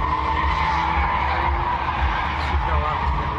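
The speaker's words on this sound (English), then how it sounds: "Smoke filled the air and tires screeched." Cars spinning donuts in a parking lot at night: a sustained high tire screech over a rumbling engine, steady and loud, with someone talking over it.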